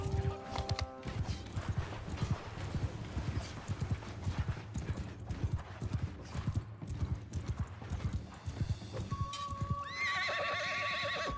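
A horse in the samurai video game Shokuho, with rapid, steady clip-clop of hooves for most of the stretch, then a loud, drawn-out neigh near the end.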